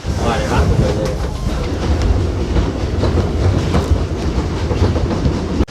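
A train from Saigon to Hanoi in Vietnam rolls along the rails with a loud, continuous rumble and rhythmic clacking of the wheels, heard from inside the carriage.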